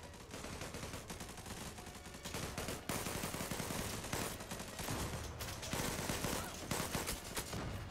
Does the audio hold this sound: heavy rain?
no